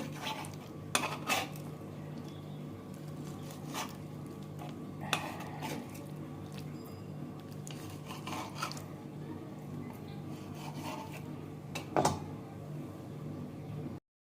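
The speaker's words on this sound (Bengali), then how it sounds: "এই ডিমগুলোকে আমি পিস পিস করে কেটে নিচ্ছি বড়া করব বলে" A knife cuts fish roe into pieces, quiet rubbing and scraping broken by a handful of sharper clicks of the blade against a board or plate, spaced a few seconds apart.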